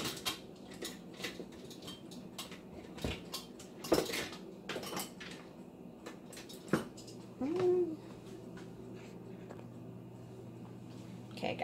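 Kitchen utensils clink and rattle as someone rummages through them for a whisk while making meatloaf, scattered light metallic knocks and scrapes coming close by at an uneven pace.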